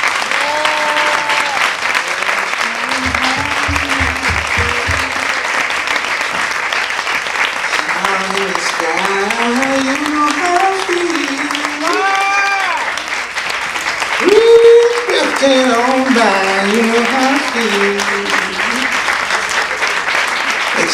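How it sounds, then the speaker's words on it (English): Sustained clapping and cheering from an audience at a poetry ball, filling the room steadily for the whole stretch, with a voice speaking and a singing voice rising over the crowd noise. "you all to stand up, get out your seats, and give a fierce round of applause for Mother Diva."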